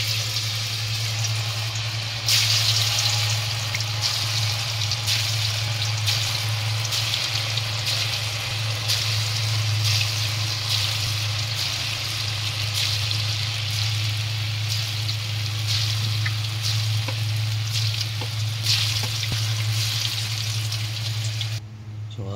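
Tuna fishballs with tofu fry in hot oil in a pan, a continuous crackling sizzle that stays steady and close throughout with small pops over a low background hum.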